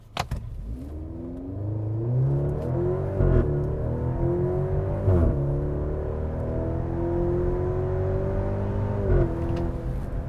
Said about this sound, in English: '23 Maserati Grecale Modena with no launch control. Interesting sound.